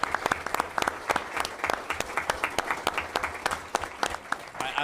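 An audience at a school board meeting applauds a soccer championship win with moderate, fairly sparse clapping in which individual hand claps stand out in a steady, uneven patter.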